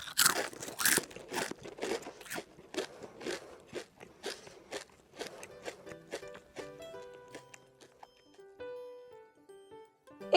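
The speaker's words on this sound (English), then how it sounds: "It sounds like somebody eating something." Someone eats crunchy food nearby, giving a fast series of loud, crisp crunches and bites that slow and fade after several seconds. A soft tonal musical figure rises beneath them toward the end.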